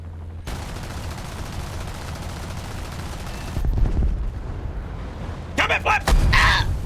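Aircraft strafing ground targets with its guns in War Thunder, a long sustained burst of rapid fire followed by heavier booms and crackling impacts, loud and close, with brief voice-like sounds near the end.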